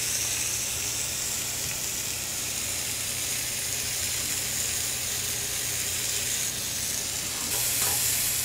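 Steak searing in a hot pan over fast, high heat, giving a loud, steady sizzle and fry hiss that holds unbroken the whole way through, with no talking.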